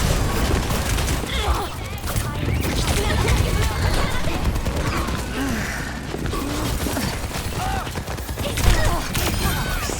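Overwatch 2 match gunfire, a continuous chaotic mix of rapid shots, impacts and ability effects, loud and dense, with people talking over it.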